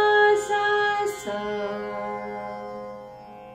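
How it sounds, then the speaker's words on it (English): Tambura drone sounding pa and sa notes, plucked strings ringing into a rich, buzzing sustained hum, two soft plucks early on, then the tone slowly decaying, heard alone. "The hum created by the tambura helps us easily identify our scale and pitch our voices correctly"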